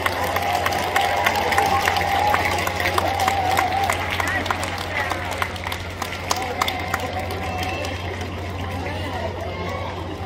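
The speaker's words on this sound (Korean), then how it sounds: "뜨거운 박수로 격려해 주시기 바랍니다" Audience applause in a hall after a performance by a junior big band and a brass band at a military band festival, a steady dense wash of clapping with crowd chatter and faint voices mixed in throughout.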